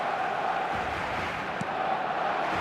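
Steady, dense roar of a stadium crowd in the football video game eFootball, a continuous murmuring wash with light cheering swells and no clear break.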